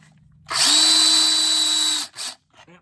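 A power drill bores into metal with a bit while installing a kingpin on a Case 5220 Maxxum tractor, making one loud steady whine that runs about a second and a half and then stops, followed by a few brief clanks.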